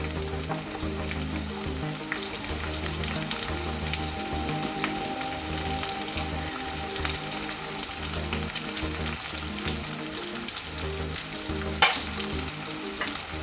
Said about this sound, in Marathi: आणि आता हे आपण छानसं परतून घेणार आहोत।